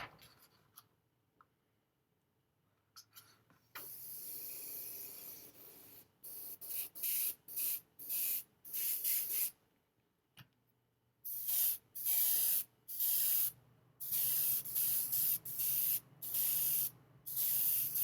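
An airbrush fed by an air compressor sprays paint onto a 1/6-scale figure's shirt in a long hissing burst, then a run of short, rhythmic spurts separated by silent gaps, close and fairly loud with no talking.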